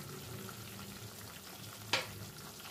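Whisked yogurt poured into hot spiced oil for a boal fish curry gives a steady low sizzle, then a sharp, loud hiss that quickly fades back into the frying, close up with no talking.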